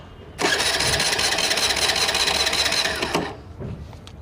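A Honda Activa 3G scooter engine starting: a loud whirring crank that catches and runs steadily for about three seconds before dropping off, heard close and alone.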